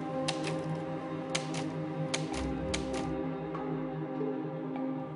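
Typewriter keys strike in an irregular run of sharp, fairly quiet clacks over a steady low tonal background, with no talking.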